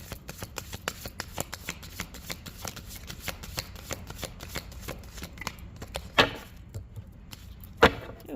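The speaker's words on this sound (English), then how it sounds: "Okay, we're going to just shuffle" Tarot cards shuffled in a steady run of crisp riffling flicks, close and fairly quiet, with a couple of louder snaps near the end.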